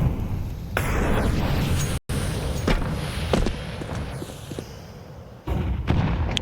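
A stack of grenades detonates in a Counter-Strike 2 match, heard as a series of heavy booming blasts and sharp pops over continuous rumbling game noise, with a brief dropout midway.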